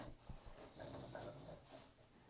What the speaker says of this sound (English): my dog sounds like a pig right now